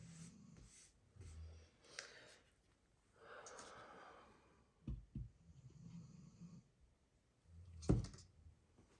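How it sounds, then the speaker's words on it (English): A sleeping pet dog snores softly indoors, slow irregular snorts and breaths with several quiet rasping pulls and one louder snort near the end, faint and close. "Do you hear her cute snoring?"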